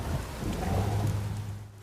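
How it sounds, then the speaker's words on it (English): Steady rain pours down with a low rumble of thunder during a storm in the video game The Witcher 3, a dense, loud wash of sound with no voices. "A storm, damn it."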